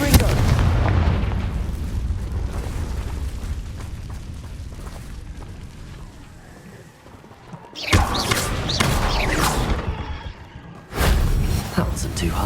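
Confringo fire spell blasts in the Hogwarts Legacy video game, a dense rumble of booming explosions and crackling impacts that fades out, then returns in two loud bursts near the end.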